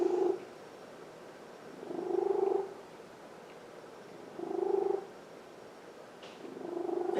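A cat purrs softly during a quiet yin yoga session, in slow rhythmic swells about every two and a half seconds, faint and close, with no talking.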